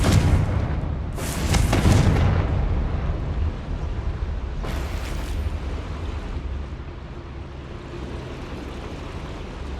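A fiery Confringo spell blast in Hogwarts Legacy, set in a goblin mine, erupts as a loud, deep boom with a rushing burst. A second, lighter whoosh follows a few seconds later and fades into a low rumbling background.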